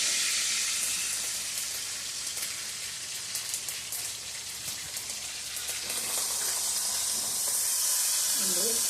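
Curry leaves and spices sizzle as they temper in hot oil, a steady bright crackling hiss that holds throughout at close range.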